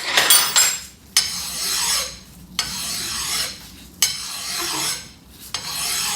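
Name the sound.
cleaning rust off a wood chipper shaft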